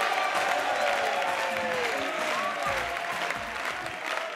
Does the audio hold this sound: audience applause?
yes